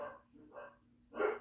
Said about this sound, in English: Dogs are starting to bark.